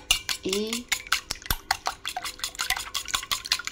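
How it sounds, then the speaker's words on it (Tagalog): Eggs beaten with black pepper, cumin, coriander, salt, smoked paprika and cayenne for fried cauliflower, a busy close rhythm of utensil clinks and taps against a bowl, fairly loud and continuous. "mix natin yung mga ingredients niya"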